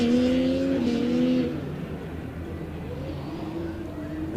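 A Formula Student race car at an autocross event, its engine note rising in a tonal rev, then dropping away as the car moves off into a quieter distant drone.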